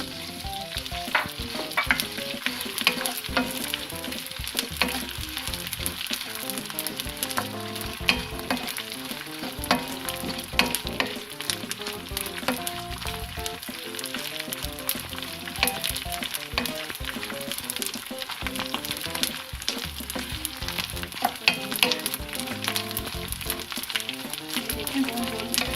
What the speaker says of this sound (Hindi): घी गरम हो गया और इसमें गोंद डाल दी।